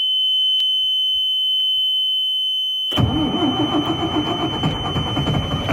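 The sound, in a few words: diesel bus engine cranking, failing to start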